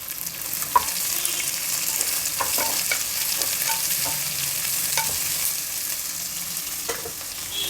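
Thickly cut onions frying in a pan for rice upma, a continuous close sizzle with light spatula scrapes and stirring taps scattered throughout, no voices.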